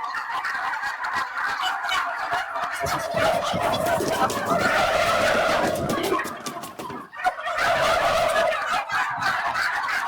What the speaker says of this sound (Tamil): கோழி கொஞ்சம் பிடிச்சி காட்டுங்கண்ணா.